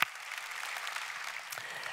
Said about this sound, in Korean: 오늘도 이 자리에 임재하신 우리 성령님께 감사와 영광의 박수 드리겠습니다